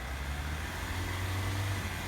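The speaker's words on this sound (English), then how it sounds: "Revving the engine too much." A manual car's engine held at steady high revs during a hill start, a continuous low drone that swells slightly midway, close and alone without talk.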